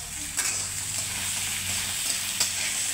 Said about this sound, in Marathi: कांदा टाकलाय आणि कढीपत्ता पण टाकलाय. थोडीशी कोथिंबीर बी टाकूया तेलात आपण